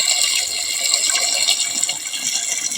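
Water pours steadily from a hose or can onto the base of tomato plants in a garden, a continuous close gushing and splashing with no talk.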